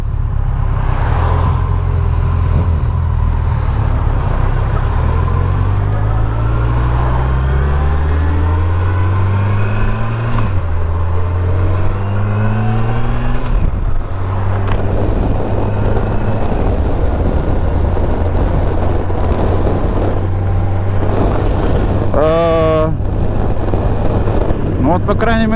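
A Yamaha FJR 1300 motorcycle cruising at about 80 km/h, its engine droning steadily with rising and falling tones through gear changes under heavy wind buffeting on the microphone, while the rider talks over it.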